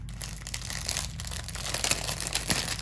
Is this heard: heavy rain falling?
no